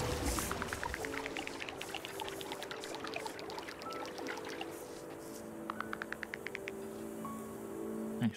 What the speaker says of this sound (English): we've got a beautiful little waterfall over there